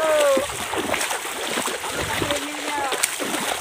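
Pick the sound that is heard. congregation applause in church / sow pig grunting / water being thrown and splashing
water being thrown and splashing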